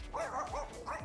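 A guard dog at an animal shelter lets out a quick series of about four short, sharp barks, fairly faint and somewhat distant, with no talk over them.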